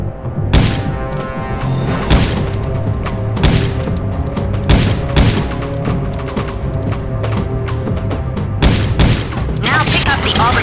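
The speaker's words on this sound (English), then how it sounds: "Now change your ammo type until you get the ricochet bullets." Ricochet bullets fired at a firing range in the Judge Dredd video game: a steady string of loud, sharp shots at an irregular rhythm over a dense game soundscape, with a voice talking at points.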